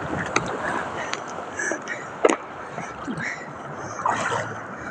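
Big ocean waves at a beach in Zambales wash and splash in bursts over steady surf noise, with a few sharp splashes close by and people's voices calling out faintly in the background.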